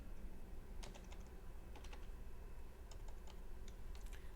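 Steady typing on a computer keyboard, close and quiet, a run of light quick clicks over a constant low background hum with no talking.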